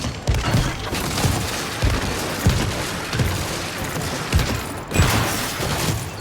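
Turrets firing repeatedly in the video game Lego Batman, a steady run of booming blasts and thumps every half second or so, loud and dense, with faint game noise beneath.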